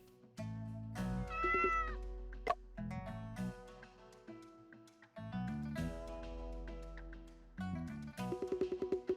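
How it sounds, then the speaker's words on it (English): A cat in a mystery video game meows several times, with bright drawn-out calls separated by short pauses. The meows ring clearly and fairly close, set against quiet game sound, with no voices. "Such a cute kitty."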